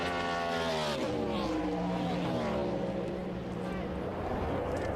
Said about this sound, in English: So now he's just trying to nurse this 12 car home and fend off the 60 of Boris Said, who's trying to close in.